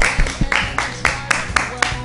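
Rhythmic hand clapping from a small group of friends gathered in a shared flat, steady claps repeating about four times a second, close and fairly loud with some voices mixed in.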